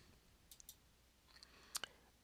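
A few crisp computer mouse clicks while someone works in SoftPlan drafting software, sparse single and double clicks in a quiet room, close and fairly soft.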